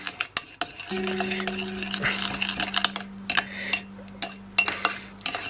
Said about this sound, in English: Now, stir all this in.